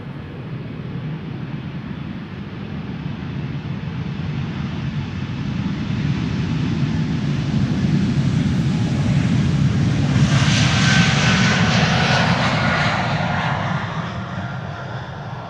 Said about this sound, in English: Parallel departures in progress at the moment.